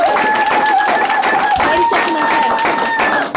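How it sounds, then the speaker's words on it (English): At a Garvey Day gathering of a Chicago UNIA chapter, the crowd greets a speaker with a loud, sustained round of clapping and cheering, dense and close, with steady tones and voices mixed in. "Y'all welcome the brother with a strong round of applause."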